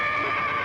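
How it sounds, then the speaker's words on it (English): A horse lets out one brief, loud, sustained whinny, close and clear, with no other sound alongside it. "I thought I heard a horse"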